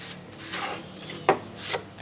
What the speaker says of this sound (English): And the last step is just to give it a quick sanding